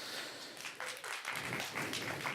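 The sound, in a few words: applause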